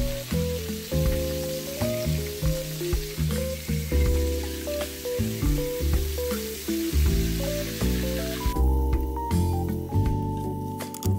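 Red snapper fillets frying in hot oil, with a steady sizzle and crackle running throughout, accompanied by a prominent tonal background that rises and falls in repeating phrases.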